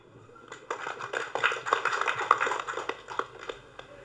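Audience clapping at a speech event, a modest scattering of hands applauding at moderate distance, building briefly and then thinning out.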